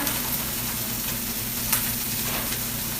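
Carrot tops and kale cook in a hot pan, giving a steady, close sizzle with a constant hiss and a few soft crackles throughout, with no talking.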